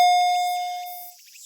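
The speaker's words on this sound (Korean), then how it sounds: "내려가는 동안에도 일정한 리듬으로 초인종 소리가 울려댔다" A doorbell chimes once, a single clear bright tone ringing out and slowly decaying over a quiet background.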